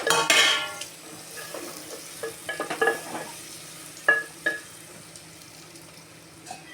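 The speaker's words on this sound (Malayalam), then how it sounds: "ഈ നെയ്യിലേക്ക് നമ്മൾ ചെറുതായിട്ട് അരിഞ്ഞിട്ടേക്കണം ഏത്തമ്പഴം ഇട്ട് കൊടുക്കണം. പൊടി ഒന്ന് ഇളക്കി കൊടുക്കണം." Chopped ripe banana frying and being stirred in ghee in a pan, with a burst of sizzling at the start, then scattered scraping clinks of a utensil against the pan.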